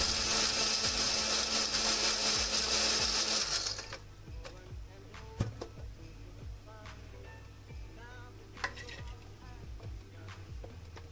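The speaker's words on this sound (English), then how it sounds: "We are gonna make a fine powder. So we are using a mixer for this." An electric kitchen mixer grinds cinnamon sticks, nutmeg and cloves into fine powder, a loud continuous whirring roar for about four seconds that cuts off abruptly, followed by quieter clicks and clatter as the jar is handled.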